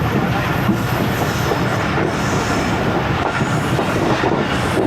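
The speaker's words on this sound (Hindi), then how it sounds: "यहाँ पे आप ट्रैक की वाइब्रेशंस भी सुने, डिफरेंट हैं।" Awam Express passenger train rolling slowly over a weak stretch of track between Padidan and Shahdadpur in winter, a steady close rumble and rattle of wheels and carriages throughout with no talking.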